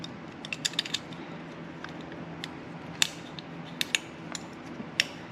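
Small metal wrench clicks and creaks as a 9mm wrench snugs a jam nut against an adjustment screw on an old go-kart, a scattering of sharp ticks over a low steady room hum.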